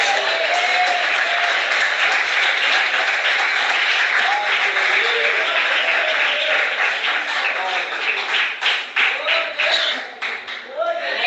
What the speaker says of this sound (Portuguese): Glorifica as palmas